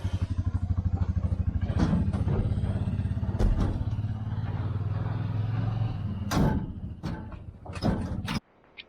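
A truck hauls a stock trailer loaded with about a dozen bison, its engine droning loudly and steadily at first, then rattles, clanks and bangs from the trailer break through before the sound cuts off abruptly near the end.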